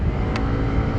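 Yamaha Mio Gravis version 2 scooter engine heard while riding: a steady, close motor hum with road and wind noise, continuous for about a second, no talk.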